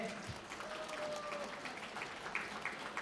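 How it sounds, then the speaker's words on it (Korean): An audience applauding at a product presentation, a steady wash of clapping at moderate level with a few sharper claps standing out. "박수 부탁드리겠습니다."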